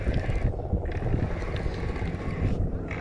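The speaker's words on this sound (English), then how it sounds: "There's the ski boat again." A ski boat passes on open water, a continuous rumbling engine drone mixed with wind buffeting the microphone, fairly loud and close the whole time.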